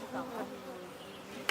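Honey bees buzz around their colony hives at an eco-friendly farm, a soft continuous hum with a few individual bees droning past nearby, faint throughout.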